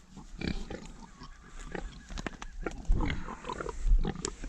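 Pigs on a small farm grunt and snuffle in the morning, loud and close, with irregular low bursts of oinks and rooting noises.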